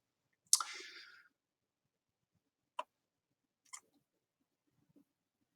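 Computer mouse clicking in a quiet room: a few sharp, isolated clicks spaced over several seconds, the first with a short rustle after it, the rest single and crisp.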